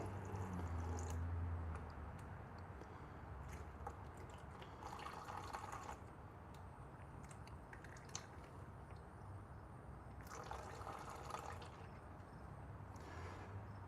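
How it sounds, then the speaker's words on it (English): Engine oil dripping slowly off the drain plug of a KTM 500 EXC-F dirt bike during its first oil change, faint scattered drips over a steady low background hiss in a workshop. "Just taking it off slowly, let it drip off, don't let it get all over the frame."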